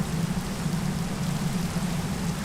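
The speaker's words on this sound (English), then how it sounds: "Good rain or bad rain?" Rain falling in the game Minecraft, a steady dense hiss with a low rumbling undertone, constant and unbroken throughout.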